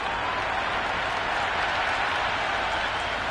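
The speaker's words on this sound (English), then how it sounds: "Will you listen to that crowd? They are loving this." A packed stadium crowd at a one-day international cricket match between India and New Zealand roars and applauds after a six, a dense, continuous wall of cheering and clapping with no pauses.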